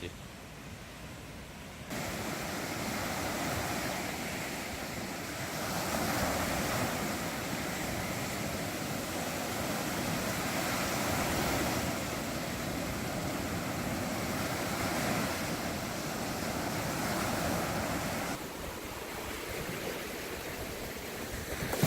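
Ocean surf roaring steadily close by on a beach in Goseong, Gangwon-do, Korea, a broad wash of breaking waves that swells and recedes over about twenty seconds.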